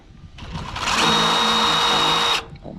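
A power drill drives 1-inch galvanized screws during a saloon build, letting out one close, loud, steady whir lasting about two seconds before stopping abruptly.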